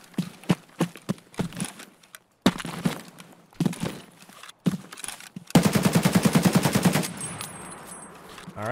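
AK-101 rifle fire in Escape From Tarkov: sharp separate shots and short bursts spaced by brief silences, building to a fast, sustained automatic burst near the end, close and loud.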